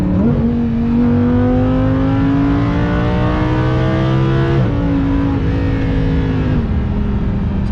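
Car cruising at 80 mph around 3,000 RPM, a steady loud engine drone with a rising tonal hum from inside the cabin, a small shift in pitch midway, continuous road noise.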